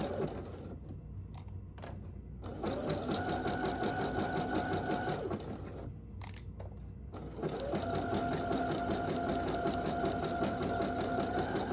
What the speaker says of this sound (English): Right sides facing each other, sew the short edges of the waistband pieces together.